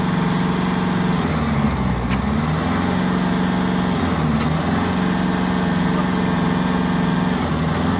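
A Kubota 5502 tractor engine runs loud and steady with a rotavator attached, a constant mechanical chugging drone with slight dips in pitch now and then.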